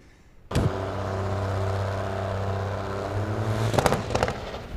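Diesel drag truck engine at an NHRDA world final race, a loud sustained roar with steady tonal drone that ends in a cluster of sharp pops and bangs as the engine detonates, heard from a distance.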